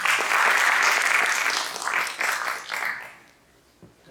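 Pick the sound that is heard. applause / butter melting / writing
applause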